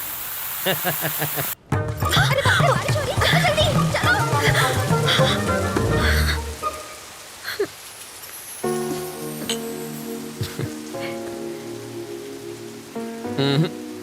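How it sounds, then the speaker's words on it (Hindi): Rain begins falling in a film scene, with a steady patter of drops and dense croaking frogs filling the background. A musical score with sustained tones comes in partway through. "बरसात शुरू।"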